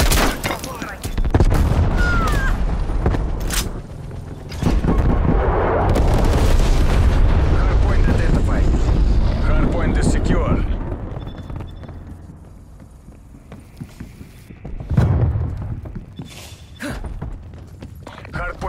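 Missile strike explosions in Call of Duty: Black Ops Cold War on the Nuketown Hardpoint map, with loud, sustained booming rumbles and debris layered with gunfire and game voices, swelling again near the end.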